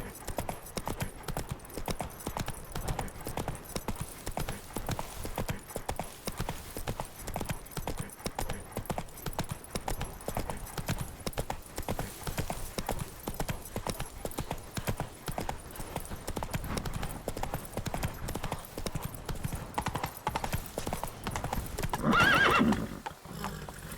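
A horse in The Witcher 3 gallops with a rapid, steady clip-clop of hooves over a long stretch, then gives a loud whinny near the end.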